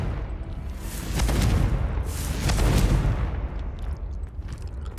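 A Confringo spell explosion from Hogwarts Legacy, heard as two loud, rumbling booms about a second apart, each with a broad blast and a rolling tail, followed by fainter crackling debris.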